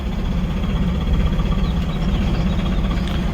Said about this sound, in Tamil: வண்டி மூவ் ஆகுது.